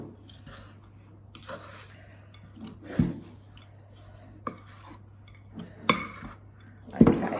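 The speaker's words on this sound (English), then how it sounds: "we get a big spoon and we mix it all in with our ingredients" A big spoon mixing zucchini and chorizo slice ingredients in a bowl, sparse scraping and a few sharp clinks against the bowl spread over a quiet background.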